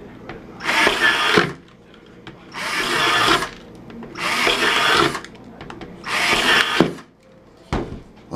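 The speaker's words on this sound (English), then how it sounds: "Okay, so now we finished drilling our holes." A power drill bores holes around a plastic bucket for a DIY gold panning rig, in four close, loud bursts of roughly a second each with short quiet gaps between them.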